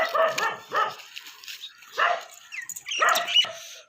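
A village dog near a goat gives several loud, close barks and yips in uneven bursts with brief quiet gaps between them.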